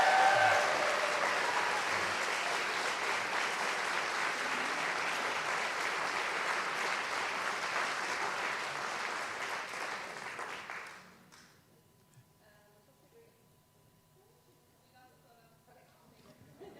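An audience at a convocation ceremony claps loudly and steadily for about eleven seconds before the applause cuts off to near quiet.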